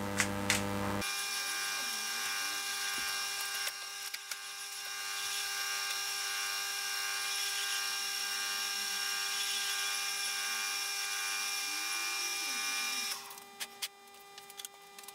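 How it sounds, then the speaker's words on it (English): A milling machine's boring head cuts a bearing hole in a rear bearing carrier for a mini Caterham build, a steady whirring machine drone with a faint scraping cut that ends as the spindle winds down. "So I'll swap over to the boring head now and we'll open that hole up for the bearing."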